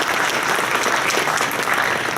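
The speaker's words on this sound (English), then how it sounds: "give him a round of applause" An audience at the NVIDIA CES 2014 press conference breaks into dense, sustained applause, many hands clapping loudly and evenly throughout.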